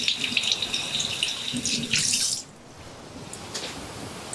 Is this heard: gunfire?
no